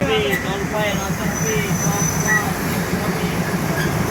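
An intercity train at a junction station in the evening rumbles steadily with metallic squeals and rail noise, while people talk in the background and faint tonal whines drift over the clatter.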